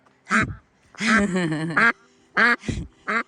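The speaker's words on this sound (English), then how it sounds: "the first duck, who is our Pekin giant white duck" A Pekin duck quacks loudly and close by in several separate bursts, including one long, drawn-out call, with short silences between them.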